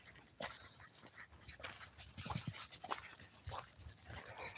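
A dog pants quickly and steadily close by outdoors in the heat, breathy rhythmic huffs with a soft whimper mixed in.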